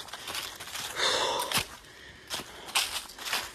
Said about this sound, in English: I know it sounds like I'm breathing heavily, just out of breath from all that climbing.